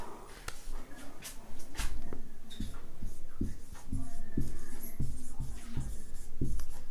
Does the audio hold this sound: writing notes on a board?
yes